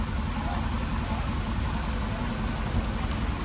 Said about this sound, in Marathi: आम्ही आलो खूप पाऊस चालू होऊन गेला इथे